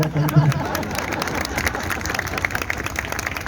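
A crowd breaks into applause, scattered clapping building into a steady patter with some background murmur.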